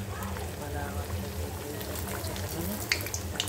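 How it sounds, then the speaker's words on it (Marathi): Moong dal mathri dough pieces deep-frying in hot oil, a steady close hiss and bubbling sizzle throughout, with a voice talking over it and a couple of brief sharper crackles near the end. "तर मी केक टाकून मस्तपैकी तळून घेते"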